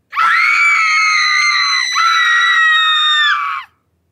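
A single piercing shriek of horror, close and loud, holds for about three and a half seconds with a brief wavering dip midway before breaking off into silence.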